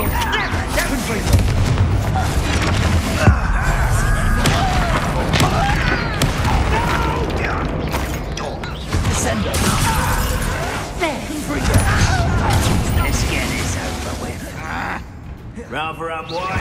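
The Confringo blasting spell from Hogwarts Legacy goes off repeatedly as loud, close booms and bursts over a dense, busy game soundscape, with vocal sounds in the mix and a quieter stretch at the very end.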